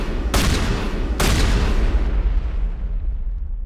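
Two heavy gunshot-like blasts ring out to destroy a transmitter in Mass Effect Legendary Edition, each loud broadband crack followed by a decaying rumble, leaving a long fading tail of low reverberant noise.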